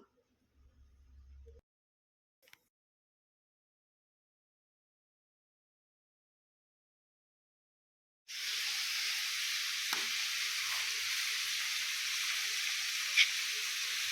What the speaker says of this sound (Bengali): এই যে এখানে রুটি আর এই ডাল ভাজা করে নিচ্ছি।